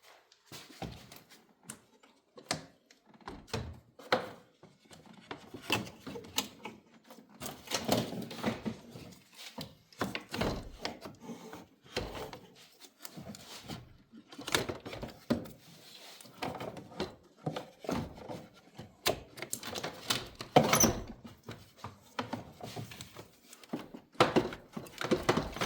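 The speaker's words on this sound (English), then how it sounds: "I'm going to go ahead and drop the fan in." A radiator fan assembly is lowered into the engine bay of a 2012 Toyota Highlander, producing soft plastic knocks, bumps and scraping taps at uneven intervals. The sounds are close and fairly quiet, with no talking.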